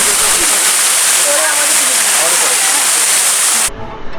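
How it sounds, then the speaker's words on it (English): A lovely waterfall at the entrance of a site on the road from Mirik to Darjeeling roars as a loud, steady broadband rush of falling water, cutting off abruptly near the end. "right at the entrance, we were greeted by this lovely waterfall."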